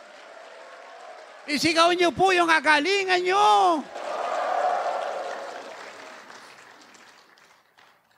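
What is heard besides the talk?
congregation applauding at a preaching service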